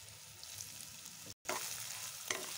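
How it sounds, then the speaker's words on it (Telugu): Crushed garlic and cumin paste fries in hot oil with curry leaves for Telangana garlic powder, a soft continuous sizzle with a brief gap and a small crackle near the end. "ఈ యాడ్ చేసుకున్న పేస్ట్ని అయితే మంచిగా ఆయిల్లో అయితే కొంచెం అయితే ఫ్రై అయ్యే వరకు అయితే మనం వేయించుకోవాలి"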